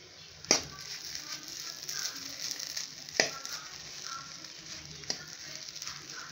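Bread bonda stuffed balls frying in hot oil, a steady soft sizzle and bubbling with three sharp crackling pops spaced a few seconds apart, fairly quiet and close.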